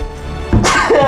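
A single close sneeze bursts out midway, preceded by a brief breathy intake, loud and alone.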